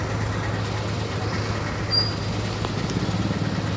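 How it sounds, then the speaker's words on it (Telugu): A train rolls past a level crossing on a road trip, a steady, continuous rumble of wheels and cars with a low drone underneath, holding at moderate loudness throughout. "ఇంకా 2 minutes ట్రైన్ వచ్చింది"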